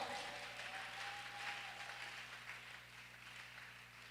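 A church congregation applauding during a service, a faint, steady wash of clapping that holds for the whole stretch over a low hum, with no voices standing out.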